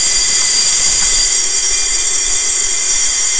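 Train wheels squeal steadily on the rails, a continuous high-pitched screech sustained throughout with a low rumble of the railcars beneath, loud and close.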